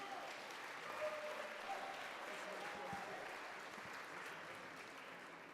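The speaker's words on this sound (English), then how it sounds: "One more round of applause, please." Applause from an audience at a city arts awards evening, a steady dense wash of clapping that holds at an even level throughout, with faint voices mixed in.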